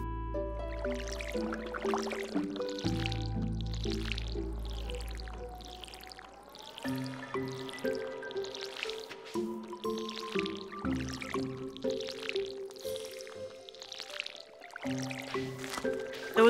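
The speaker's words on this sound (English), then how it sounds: "Water our crops." Watering crops with a water bucket in Stardew Valley: repeated short splashy pours and drips land in a steady rhythm, one after another, over light game music, with no talking.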